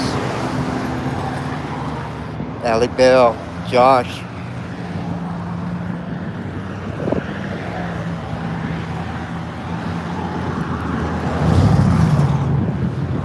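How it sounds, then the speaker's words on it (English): Steady road traffic rumbles in the background while someone talks, with a louder vehicle swelling past near the end. "Sorry about the traffic noise."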